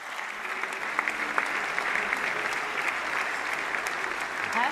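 A crowd at the IHF Men's World Championship draw applauds the competition director, with dense, even clapping that holds steady for several seconds at moderate distance.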